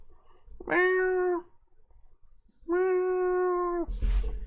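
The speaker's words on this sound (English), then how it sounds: "there's a cheeky bit of Rory Cats" A cat meows twice indoors, each call long, drawn-out and fairly loud, separated by a short pause, followed by a brief rustle.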